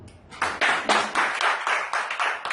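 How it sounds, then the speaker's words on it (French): An audience applauds a job candidate at a recruitment session: a short burst of clapping that starts abruptly and holds steady for about two seconds, fairly loud and without talk over it. "Ah, on l'applaudit."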